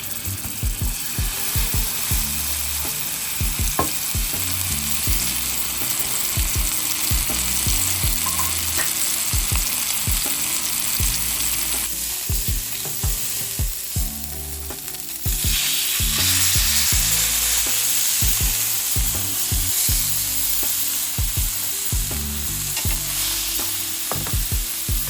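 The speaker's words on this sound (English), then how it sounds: "I'm gonna cook these fillets 3 minutes per side." Steak fillets sear in a hot pan for a quick steak and lobster dinner, giving a steady close sizzle throughout with scattered crackles, pops and scraping stirs.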